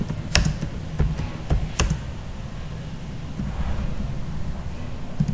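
Key taps on a computer keyboard while names are typed into an MS Word document, a few sharp isolated clicks spaced irregularly over a low steady background hum, close and moderately loud.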